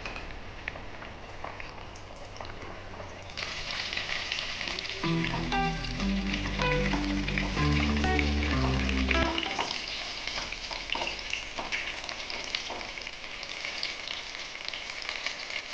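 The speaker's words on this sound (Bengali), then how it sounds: "এখন আমি এই ফিশ ফ্রাইগুলো এক একটা ভেজে নেব।" Kolkata-style bhetki fish fry crackles in hot oil in a wok, a steady close sizzle and patter that swells louder in the middle with some tonal background hum, then settles back to a gentler fry.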